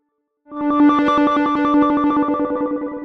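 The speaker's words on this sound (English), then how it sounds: "Let's modulate the pitch of this pulse oscillator." A pulse oscillator on a Massive X synth has its pitch jumped by a fast square-wave LFO across 12 semitones, giving a loud, buzzy tone that starts abruptly and flips rapidly between two pitches.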